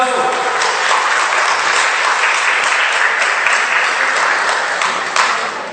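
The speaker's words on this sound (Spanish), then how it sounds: "Un fuerte aplauso." Strong applause from an audience at a seminar gathering honoring a community member, a dense, steady wash of clapping that stays loud throughout, with a slight fade near the end.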